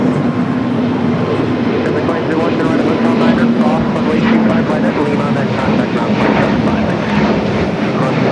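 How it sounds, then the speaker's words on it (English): JetBlue Airbus A321 touching down at LAX, a steady broadband jet roar with engine hum holding loud and close throughout, faint voices underneath. "JetBlue A321 touching down here"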